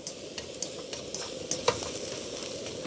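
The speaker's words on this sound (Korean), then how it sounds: "밑에 후라이팬에 달걀이 부드럽게 이렇게 다 일어나도록 익혀지도록 이렇게 만드세요" Eggs and napa cabbage stir-frying in a frying pan, a steady close sizzle with scattered spatula scrapes and clicks, no talking.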